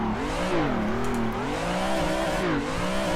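A car drifting in the racing game Assetto Corsa on the Haruna course, driven with a Thrustmaster wheel, its engine droning loud and steady with rising and falling revs throughout.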